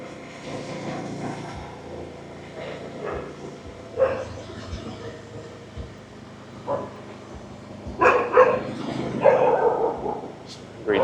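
Dogs bark in short bursts somewhere in Cambodia, mostly in the latter part, over a steady droning engine-like background with people talking throughout.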